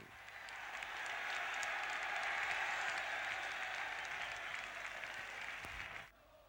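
Crowd noise from 40,000 spectators at a blustery Ninian Park for a Wales v England football match, a broad, steady distant roar that holds evenly before cutting off abruptly near the end.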